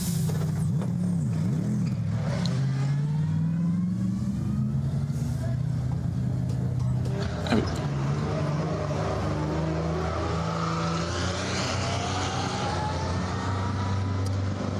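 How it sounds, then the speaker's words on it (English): Race cars at the Nürburgring 24 Hours pull out of the pits, engines droning and rising in pitch as they accelerate away at a distance, with commentators talking over the sound throughout. "So cars now starting to leave the pits"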